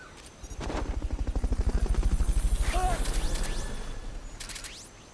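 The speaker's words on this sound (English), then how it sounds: "Fulton recovery helicopter is complete." A Fulton recovery helicopter in Metal Gear Solid: Peace Walker thumps in a steady rapid rhythm, swelling louder then easing off, with bursts of other game effects and a brief high chirp.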